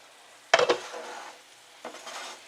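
A metal cover lifts off a frying pan holding a pound of ground beef, with a sharp clatter followed by a softer knock, and a light sizzle underneath.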